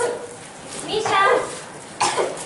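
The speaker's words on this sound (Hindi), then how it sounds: "खांसी, खांसी।" Two short, harsh coughs, about a second apart, come from a sick person in a short drama film about tuberculosis. They are close and moderately loud, with voices around them.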